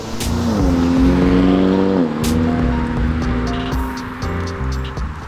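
A Hyundai Elantra Sport engine in sport mode, revving hard under acceleration with a loud, steady engine tone that shifts pitch at gear changes and then settles into a sustained drone.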